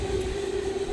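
Brief steady drone of a small train going by in a town, a constant tonal hum over low rumble, moderately loud and continuous for about a second.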